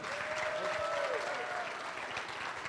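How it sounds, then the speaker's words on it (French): Dense, steady applause from an awards-ceremony audience welcoming a presenter, even and continuous from start to finish. "Un maximum d'applaudissements, s'il vous plaît."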